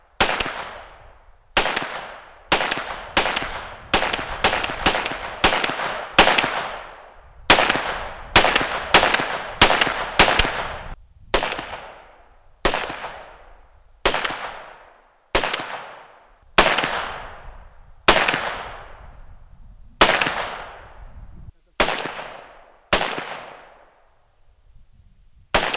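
A Hooldra Mark IV 5.45 carbine fires into a bullet containment system: about two dozen sharp, loud shots, some in quick clusters and others spaced apart, each ringing briefly off the surrounding walls.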